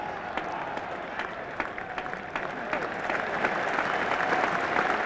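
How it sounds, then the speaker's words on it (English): A cricket crowd at the 1985 NatWest Cup final applauds a batsman reaching fifty, a steady wash of distant clapping that swells slightly toward the end. "So applause both for Randall and Lever"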